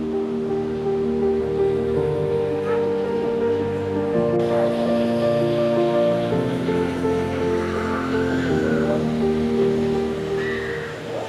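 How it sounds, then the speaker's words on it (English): Ravana waterfall in Sri Lanka pours in a steady, loud broadband rush of water, constant and close throughout, with a faint engine-like hum beneath and no voices. "here in front of me is the entire Ravana waterfall"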